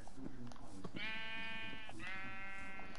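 Two clear bleats from a Minecraft sheep, each a steady nasal cry lasting about a second, sound close by over a soft background hum.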